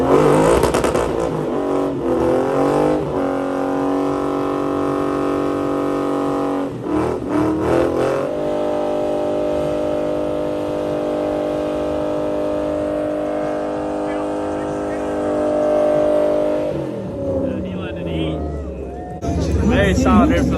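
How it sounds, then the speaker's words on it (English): Ford Mustang doing a burnout at a car show, engine held at high, steady revs for long stretches with brief drops between, loud and close, with crowd chatter underneath. "we got a Mustang rolling up here now. Hopefully he gets these shows started. That Burnout, so let's see it."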